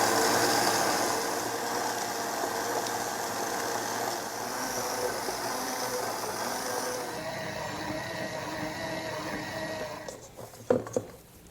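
A mixer kneads brioche dough at medium speed, a steady close motor whir with a rhythmic churning texture that runs evenly, then shifts and fades before a few knocks near the end; no one speaks.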